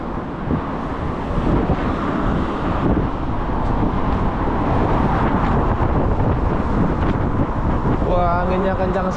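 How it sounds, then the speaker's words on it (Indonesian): Strong wind buffets the microphone outdoors on the approach to the South Portland Street Suspension Bridge, a loud, steady rumbling roar filling the whole clip, with a voice speaking briefly at the end. "Anginnya kencang sekali nih."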